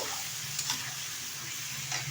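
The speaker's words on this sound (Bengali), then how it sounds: "একটু নেড়ে চেড়ে নেব।" Cleaned water lily stems frying in a wok, a continuous soft sizzle with a few faint scrapes of stirring, close and steady throughout.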